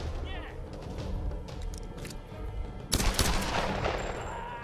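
Bursts of gunfire in the video game Tomb Raider, scattered shots and then a louder volley, with a voice talking over the action.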